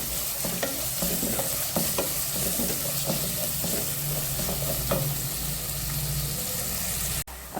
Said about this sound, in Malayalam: അപ്പൊ അതിലേക്ക് സബോള, ഇഞ്ചി, വെളുത്തുള്ളി, വേപ്പില, കുറച്ച് വെളിച്ചെണ്ണയൊക്കെ ഒഴിച്ചിട്ട് ഇതൊന്ന് നല്ല രീതിയിലൊന്ന് വാട്ടിയെടുക്കാം